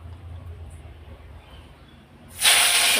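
Raw green bananas hit hot oil with cumin, setting off an abrupt, loud, close sizzling hiss that cuts in after a quiet stretch and stays strong to the end.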